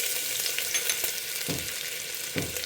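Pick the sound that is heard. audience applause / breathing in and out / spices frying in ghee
spices frying in ghee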